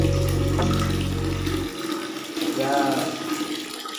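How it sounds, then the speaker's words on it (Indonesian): A bathroom tap beside a squat toilet and shower in a newly built house runs with a steady close rush that cuts off partway through, followed by quieter room sound and brief speech. "Terus kerannya udah nyala belum kerannya?"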